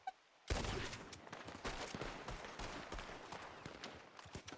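A sudden volley of gunfire in Red Dead Redemption 2 erupts after a brief quiet, dense overlapping shots rattling loudly and continuously for several seconds, with no talking.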